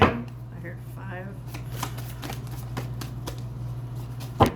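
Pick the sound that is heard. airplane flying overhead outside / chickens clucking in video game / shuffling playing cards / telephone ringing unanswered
shuffling playing cards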